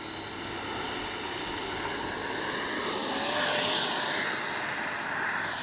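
Loud, steady jet engine roar with a rising whine from a Freewing 90mm T-45 RC model jet taking off, building slightly in intensity as it passes close by, no voices.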